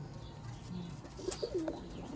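Several low, rounded coos from Sialkoti black-faced champion pigeons come close together near the end, over a quiet, steady background hum.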